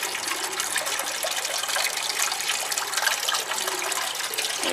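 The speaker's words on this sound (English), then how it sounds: "It bubbles all the time." An air stone bubbles constantly in a basement hydroponics nutrient tank, a steady close hiss of fizzing, gurgling water with no pauses and no voices.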